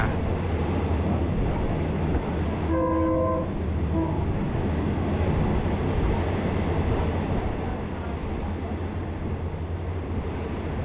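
A train horn sounds in two short blasts, the first longer, over the steady rumble and rattle of a moving train on the Mae Klong railway line in Thailand.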